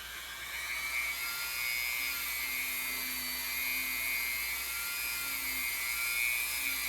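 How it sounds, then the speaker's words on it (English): A Dremel rotary tool polishes the frets of a 1992 Fender Stratocaster, a steady high-pitched whirring whine held at close range with slight pitch wavers as it works along the fretboard, no talking. "So I already did one hand pass, one Dremel pass, and now a very light pass."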